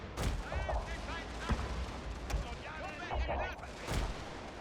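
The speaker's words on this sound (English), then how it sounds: "We're gonna fire normal round shot now." Cannons fire round shot in a Prussia strategy video game battle. Sharp booms repeat irregularly over a constant crackle of battlefield gunfire and din.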